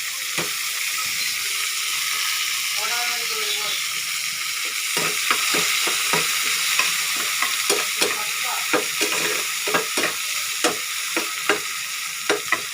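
Tomatoes with chilli powder frying in a pan: a constant close sizzle with a spatula scraping and tapping in a fairly regular rhythm, the strokes growing more frequent in the second half.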